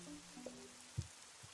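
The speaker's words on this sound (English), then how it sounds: "It's raining cats and dogs." Rain falls in the video game Fall of Porcupine as a faint, steady hiss, with a few soft droplet taps and low thuds scattered through it and no voices.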